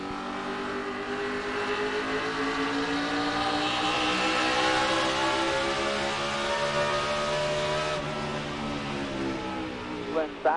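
NASCAR Cup race cars at New Hampshire in 2006 roar continuously with high engine whine, pitch sweeping as a pack runs close together, loud and sustained, with a voice talking over the radio beneath.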